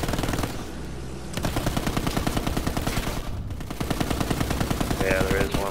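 Rapid aircraft machine gun fire in the Battlefield 1 video game, dense bursts of rattling shots running nearly continuously over a low engine drone, loud and close, with a brief pause partway through.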